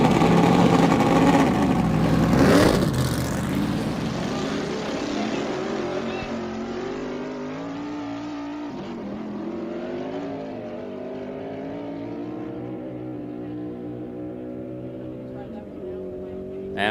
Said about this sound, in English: That is a 1934 Ford sporting a Roush Yates engine.